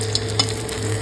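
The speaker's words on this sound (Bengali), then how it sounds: "এবার গরম হয়ে গেছে তেল, একদম ডুবো তেলে ভাজা হবে" Battered chicken deep-fries in a pan of hot oil, giving a close, steady crackling sizzle with a couple of brief pops and no voices.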